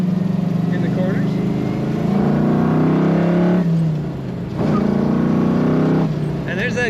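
A 1967 Chevrolet Camaro RS convertible engine accelerates loudly from inside the car, revving up through two rising pulls with a brief easing between them.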